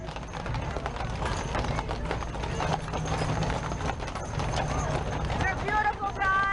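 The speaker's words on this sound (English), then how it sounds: "Everybody loves these horses, the Clydesdales." Clydesdale horses clip-clop with steady, heavy hoofbeats at the Eastern States Exposition fair, close and continuous under the loud chatter of a surrounding crowd.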